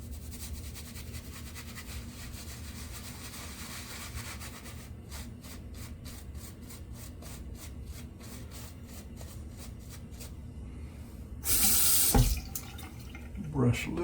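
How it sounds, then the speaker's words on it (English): Water runs from a tap over a shaving brush at a sink, a steady splashing flow with rubbing and a brief louder gush near the end, no voices. "get the brush wet"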